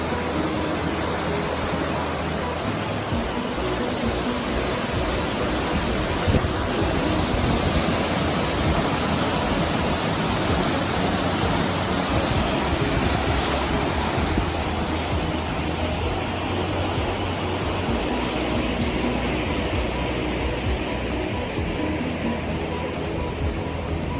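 Water in the Tawa irrigation canal rushes in a constant, dense roar, loud and unbroken for the whole stretch, with no voices over it.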